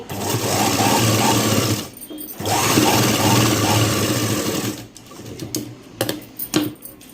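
A sewing machine stitches the kaja strip of a blouse in two steady, loud whirring runs separated by a short pause, followed by a few irregular handling clicks and knocks up close.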